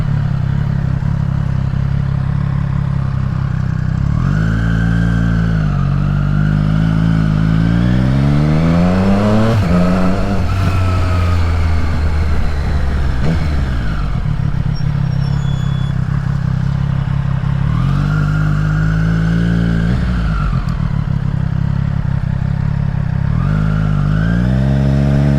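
A Triumph Street Triple R motorcycle engine drones steadily and close while riding, with its pitch rising and falling through repeated revving and gear changes over constant road and wind noise.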